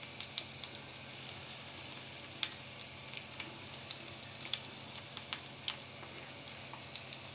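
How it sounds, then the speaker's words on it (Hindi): Onion rings frying in hot oil over a low gas flame, a steady soft sizzle with scattered small pops and crackles throughout, fairly faint and without talk. "तेल जब हमारा हल्का गरम हो, हम अनियन रिंग इसमें इस तरीके से डाल देंगे।"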